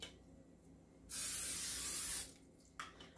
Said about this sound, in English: Just going to spray it lightly.